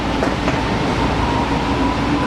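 An empty passenger train runs steadily with a continuous close rumble and rolling rail noise, a few faint clacks near the start, and no talking.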